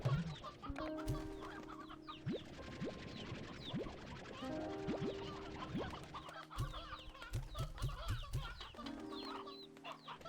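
Chickens clucking in Slime Rancher 2, a busy flock of close, overlapping clucks and chirps with scattered game chimes and short effects throughout.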